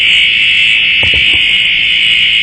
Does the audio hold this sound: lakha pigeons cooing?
no